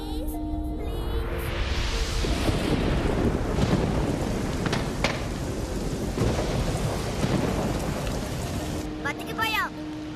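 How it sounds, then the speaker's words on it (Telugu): Heavy rain pouring with rolling thunder, a long loud rumble swelling over the dense hiss of rainfall, then easing back to steady rain. "వర్షం వల్ల మంటలు ఆరిపోతాయి"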